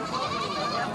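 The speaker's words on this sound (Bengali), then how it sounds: "দর্শক এই একটা খাসি দেখেন" A castrated male goat bleats once in a brief, wavering cry at a livestock market in Charghat, close and fairly loud against the crowd's murmur.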